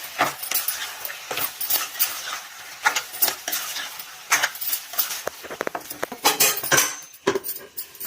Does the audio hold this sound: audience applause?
no